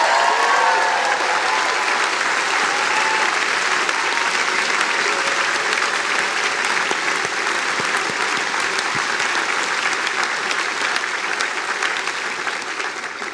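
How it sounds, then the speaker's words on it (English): Sustained applause from a large audience at a Harvard University graduation ceremony, a dense, even roar of clapping that holds steady for the full stretch before easing slightly at the end. "how about we give a round of applause to your parents"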